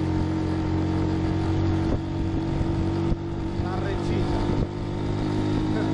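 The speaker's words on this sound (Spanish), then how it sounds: "Miren la fuerza que tiene esta motocicleta, voy con pasajero y no la puedo acelerar del todo porque se me intenta picar." A Yamaha Libero 110 motorcycle carrying a passenger climbs a hill, its small single engine droning steadily close by with brief dips at gear changes.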